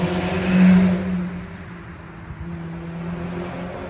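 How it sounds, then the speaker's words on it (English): A Volkswagen GTI Mark V driving past, heard as a steady mid-range engine hum that swells briefly and then fades back into a continuous background drone, fairly close, with no talking. "That was definitely a GTI."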